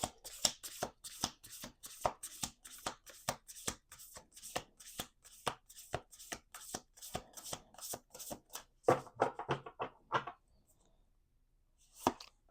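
Rapid crisp riffle of a card deck being shuffled, repeated bursts of fluttering clicks in quick rhythm, then a pause and one last short riffle.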